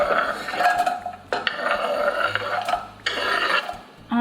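Chopped onion tipped into a pan holding about a tablespoon of hot oil for a veggie soup, giving close bursts of sizzling and clattering against the pan in three rough waves, with no talking.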